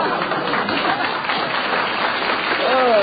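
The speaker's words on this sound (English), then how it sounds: "Even a couple of married men are applauding." A studio audience at a 1958 radio quiz show applauds in a continuous, thick patter through the whole moment, with crowd voices mixed under it and the sound slightly muffled and narrow.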